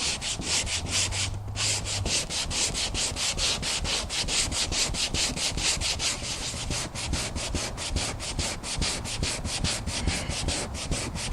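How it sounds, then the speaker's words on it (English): Steady, rhythmic back-and-forth scraping of an 80-grit sanding block in an X pattern on a car bumper repair, loud and close, continuing without pause. "we got 80 grit on our sanding block, and we'll just work it in an X pattern here."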